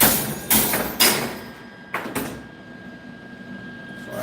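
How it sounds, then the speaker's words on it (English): A small hammer strikes metal while a bonsai is being built, landing several close, distinct taps in uneven rhythm with quiet gaps between blows. "Okay, let's get a little hammer in here."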